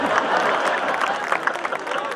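Audience applause at a Hindi poetry recital, a steady dense wash of clapping from a large crowd that fills the whole stretch without pause and without a single distinct voice.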